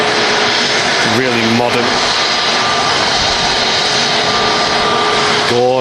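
A Scandinavian jet airliner in from Oslo arriving at Manchester Airport, a loud, constant roaring whine of jet engines near by, with someone talking over it.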